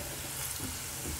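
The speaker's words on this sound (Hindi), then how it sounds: "5 मिनट पर इसको भून लें।" Masala of coriander powder, red chilli powder and amchur frying in a pan while being fried for arbi sabzi, a steady close sizzle with faint stirring throughout, no voices.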